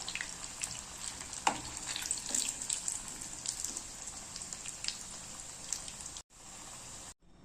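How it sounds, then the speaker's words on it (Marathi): Bread snack frying in hot oil in a home kitchen pan over low to medium gas, with a steady crackling sizzle and scattered pops, then a brief cut near the end. "तेल गरम असायला पाहिजे, तेव्हाच आपल्याला डिश तेलामध्ये टाकायची आहे"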